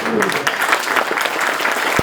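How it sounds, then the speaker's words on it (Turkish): Audience at a Turkish community platform gathering breaks into strong applause, a loud, dense wash of clapping from a sizable crowd that carries on steadily with a few voices mixed in. "sosyal medyada görev olan arkadaşlara kuvvetli bir alkış istiyorum"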